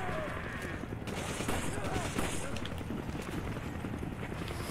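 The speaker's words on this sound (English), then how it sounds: "He keeps on shooting me with this rocket." Gunfire in the Resident Evil 5 video game crackles in rapid bursts among rocket fire, moderately loud, with players talking over it.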